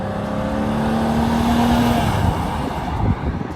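A 1991 Oldsmobile Cutlass Supreme NASCAR stock car engine roars steadily at high revs, a strong droning tone that holds for about two seconds before breaking into rougher, fluctuating engine noise, loud and close throughout.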